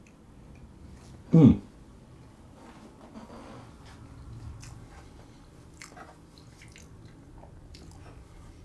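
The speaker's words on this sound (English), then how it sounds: "I'm just going to take a little piece off the bottom of this slice and have a taste" A single close bite into a slice of preserved lemon loaf cake, taken from the bottom without icing, followed by faint quiet chewing and small mouth sounds.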